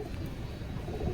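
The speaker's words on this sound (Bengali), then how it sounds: "নর কবুতর, বেশি বয়স হয় নাই।" Rooftop pigeons, a young male among local and Sirazi birds, give soft, low cooing at close range. The calls run quietly and continuously, with no talking.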